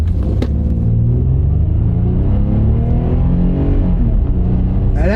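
A loud, close car engine with 224,000 miles on it pulls steadily under acceleration, its drone climbing in pitch and briefly dropping at a smooth gear shift before rising again.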